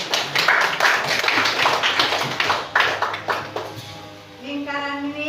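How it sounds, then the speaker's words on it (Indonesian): Classroom clapping, a dense patter of many hands for about four seconds, then fading as a voice begins speaking. "Tepuk tangan dulu."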